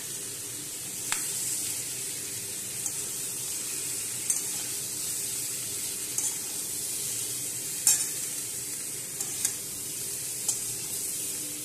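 Boiled fish seasoned with salt and turmeric fries in a pan with a steady hiss, broken by scattered faint clicks and stirring taps, close by with no voices.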